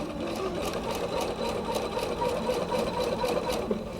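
A sewing machine stitches a quilt, its motor whirring steadily and close, with a fast even needle rhythm running unbroken throughout.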